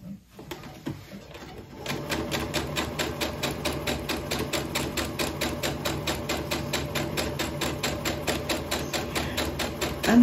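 A sewing machine runs one long continuous stitch through pinned quilt blocks, its needle clattering in a fast, steady rhythm close by after a brief quiet start.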